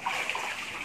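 A swimmer in an outdoor pool in front of a house, heard as continuous close splashing and gushing water for about a second, with no talking.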